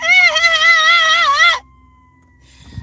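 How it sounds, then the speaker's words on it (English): A wailing siren rises and falls loudly for about a second and a half, then cuts off to near quiet. "there's the sirens."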